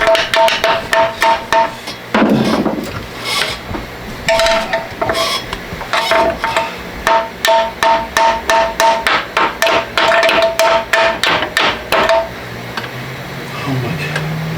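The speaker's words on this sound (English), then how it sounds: "have a regular hammer." Repeated metal-on-metal blows from a regular steel hammer striking a Can-Am Outlander ATV motor mount, a long run of sharp ringing clanks in uneven bursts, close and loud, with brief pauses between volleys.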